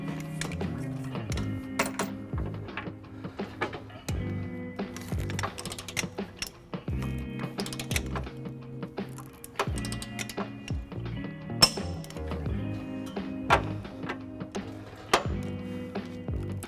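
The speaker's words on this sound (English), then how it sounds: "Now we're going to take our torque wrench, 5-inch extension, and a 19mm socket and torque it to the manufacturer's specs." Torque wrench with a 5-inch extension and 19mm socket tightening trailer hitch bolts on a 2019 Lexus RX350, giving a series of close ratcheting clicks and metallic clunks in irregular bursts, with no talk.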